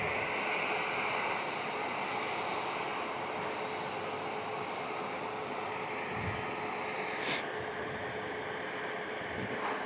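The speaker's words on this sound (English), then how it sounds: "Man, that was a long takeoff roll for that Alaska." An Alaska Airlines jet taking off at San Diego International Airport after a long takeoff roll, a broad steady engine roar with a whine on top, moderately distant, and a brief faint noise near the end.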